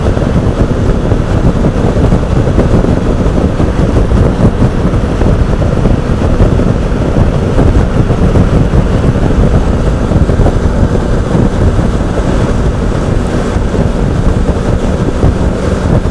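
Strong wind buffets the microphone outdoors in a chilly, exposed spot up high, making a loud, steady low roar that lasts throughout with no talking.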